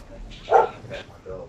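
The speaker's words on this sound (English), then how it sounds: "But now Dex has started barking" Dog barking in short yips, a couple of quick close barks over about a second and a half, with a speech-like voice quality mixed in.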